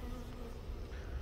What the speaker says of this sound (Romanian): Musca care mă deranjează pe mine.